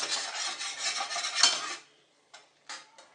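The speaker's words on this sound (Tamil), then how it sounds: "நல்லா ஹையில் வச்சு சும்மா கிண்டு" Tomato and onion stirred in a pan over high heat: a rapid rasping scrape of a spoon against the metal for almost two seconds, then silence broken by three short separate scrapes, close and loud.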